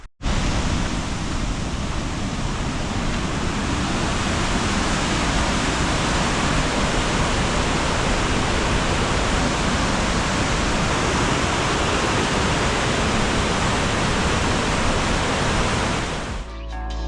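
Steady, broadband rush of water from a waterfall in Scotland, loud and continuous, with no voices, fading out abruptly at the end.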